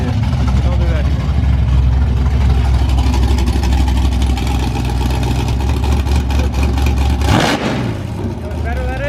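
The tuned Freedom Rocket car's engine runs loud and close with a steady, rough mid-range drone, rising briefly in a sharp rev near the end before settling back.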